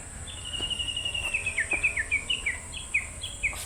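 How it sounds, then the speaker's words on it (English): A bird on a forest hiking trail in Tochigi, Japan, gives a quick series of bright, high chirps in a descending run, repeated for a few seconds over steady insect hum and soft background noise. "do you hear that bird?"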